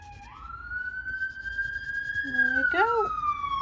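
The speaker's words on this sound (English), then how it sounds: "It's a fire engine." A fire engine siren wails past outdoors as one long, steady rising tone that holds, then falls in pitch as the vehicle moves away, over a low background rumble.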